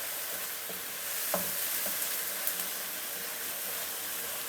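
Onions frying for a mixed vegetable curry give a steady, close hiss and sizzle, with a few soft knocks from stirring and no voices.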